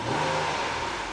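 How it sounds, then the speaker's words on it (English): A 2010 Nissan Maxima SV's 3.5-liter V6 revs briefly, its engine pitch climbing and then easing back toward idle, heard close and alone. "I'm going to rev the engine."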